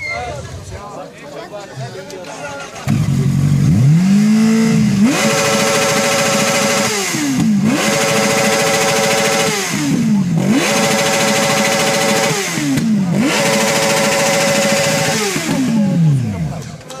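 A second track racing motorcycle is revved hard at a show, its loud engine climbing in pitch and holding high in repeated blips over about fifteen seconds, under crowd babble.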